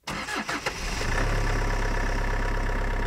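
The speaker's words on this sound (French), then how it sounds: "le moteur ronronne à merveille" A car engine cranks and catches, then settles into a steady, smooth low idle close by, after a clogged carburetor was cleaned.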